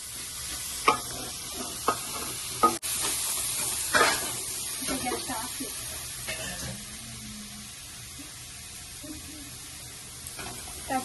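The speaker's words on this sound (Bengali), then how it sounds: "এখন নেড়েই যেতে হবে বন্ধুরা, নাহলে যাতে কড়াইতে না ধরে যায়" Carrot halwa being stirred in a wok: soft scraping strokes and faint sizzle, with intermittent clinks of the spoon against the pan, fairly quiet and unhurried, no one talking.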